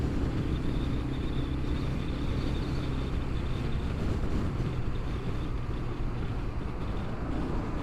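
A Kawasaki W800 motorcycle cruises in top gear, its engine a steady low rumble blended with heavy wind and road noise, continuous and close throughout.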